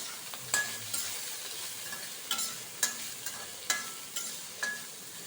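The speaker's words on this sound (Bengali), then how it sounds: "তেল গরম হয়ে গেছে, এবার এতে আমি যে বেগুনগুলো ডুমো ডুমো করে কেটেছিলাম, ধুয়েছিলাম, সেগুলো দিয়ে দিচ্ছি" Diced eggplant pieces frying in hot oil give a steady, fairly quiet sizzle, broken by several sharp clicks and clinks of stirring spaced through the clip.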